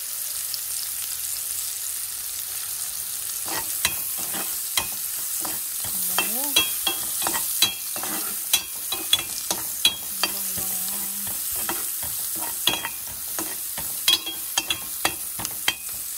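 Chopped garlic sizzles in hot cooking oil in a pan, a steady close crackle broken by frequent scraping stirs and a few brief tonal squeaks.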